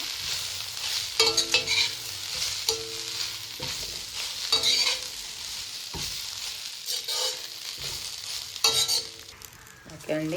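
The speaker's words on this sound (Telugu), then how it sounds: "ఇప్పుడు ఇది ఇది కూడా మంచిగా బాగా ఆ పచ్చి అంతా పోయిందాకా ఇంకా ఫ్రై చేసుకోవాలండి" Drumstick (moringa) leaves frying in a kadai for a red-chilli tamarind spice powder, a close sizzle broken by repeated scraping stirs, with a brief spoken word.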